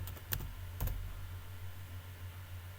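A name being typed on a computer keyboard: a few quick key clicks early on, faint and close, followed by quiet room hum.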